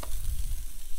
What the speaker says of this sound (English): It's sizzling nice, huh?